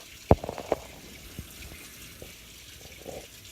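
Wet fabric being worked with Sunlight bar soap during stain removal, giving a few soft close rubbing and squelching strokes early on, then quieter intermittent wet friction with no talk.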